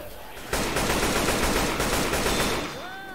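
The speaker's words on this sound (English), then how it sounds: "Shoot that zombie in the back." Rapid automatic gunfire fills a Left 4 Dead 2 zombie fight, a dense, loud, continuous burst of shots lasting a couple of seconds before cutting off, followed by game effects.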